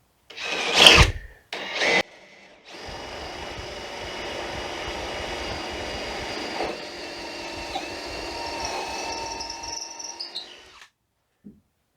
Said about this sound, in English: go ahead and give this a shot here and drill some more holes